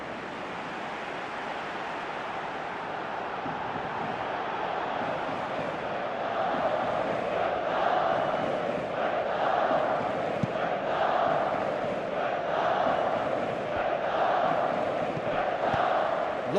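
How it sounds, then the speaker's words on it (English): A stadium crowd in a FIFA World Cup 2018 match simulation, Colombia versus Japan, gives off a continuous roar that swells about halfway through and stays loud, with waves of noise rising and falling. "you can feel and hear how the crowd are reacting to all of this"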